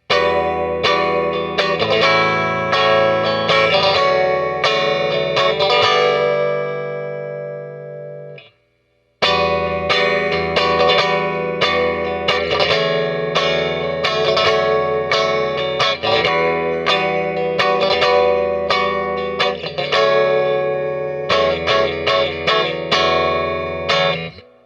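Fender Johnny Marr Jaguar electric guitar on middle and bridge pickups with the strangle switch on, strummed with a bright, slightly twangy tone, steady chord patterns played alone, briefly stopping once before continuing at full volume.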